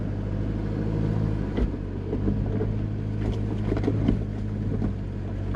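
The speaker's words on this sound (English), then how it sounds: "So it's already just climbing with the diff locker in" A Mitsubishi Pajero crawling up a rocky off-road track with the diff lock engaged, its engine a steady low rumble with irregular knocks and scrapes from rocks under the vehicle.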